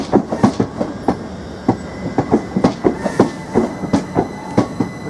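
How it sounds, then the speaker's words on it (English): Former Great Western Railway dark green multiple unit passing at Ely station, a loud steady clickety-clack of wheels over rail joints with regular rhythmic beats throughout. "Unit on the rear is a former Great Western Railway dark green unit."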